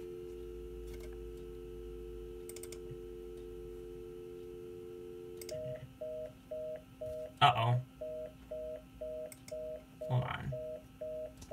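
Internal modem of a Windows 98 PC on a phone line, heard through a speakerphone: a steady dial tone, then a rapid rhythmic series of dialing beeps, with a few loud clicks and brief spoken remarks over it.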